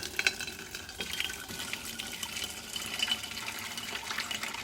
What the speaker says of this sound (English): we'll tap off the sparge water, put that to one side, and we'll tap off about 6 litres